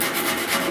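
A metal file rubs across the sheet metal of a 1969 Chevrolet C10 truck door, a brief, close, continuous rasping scrape with no talk.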